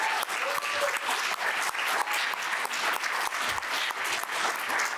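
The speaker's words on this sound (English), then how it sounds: "Let's give our panelists another round of applause." A convention audience gives panelists a loud, sustained round of applause after a session on opioid overdose prevention, dense clapping from a large crowd holding steady for the full stretch.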